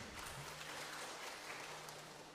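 Faint, steady clapping from a church congregation during a Sunday HKBP service in Bali, applause offered for the women, with a low hum underneath and no voices.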